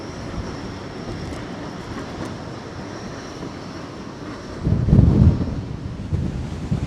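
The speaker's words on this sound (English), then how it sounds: "the wind is coming straight at us" Strong gusting wind on Blackpool promenade during Storm Malik roars into the microphone as a low, steady rush, swelling into a louder gust near the end, with no voices.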